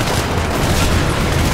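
Shotgun blasts in the violent shooter game Hatred, a dense, loud barrage of booming shots filling the whole stretch with no pause.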